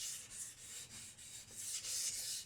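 A knife is rubbed back and forth on a sharpening stone to thin the tip. About eight soft, rhythmic abrasive strokes are heard close up, fairly faint and with no talking.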